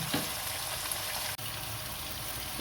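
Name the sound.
mutton head pieces and tongue frying on high flame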